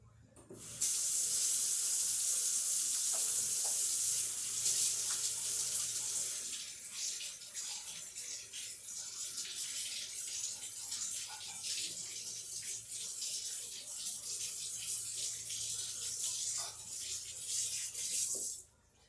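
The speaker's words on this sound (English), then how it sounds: "got my hands all rinsed off, soaped up, mostly unstickified" Running kitchen faucet pours steadily into a sink while hands are rinsed and washed with soap, a close, continuous hiss and splash that eases slightly midway and cuts off at the end.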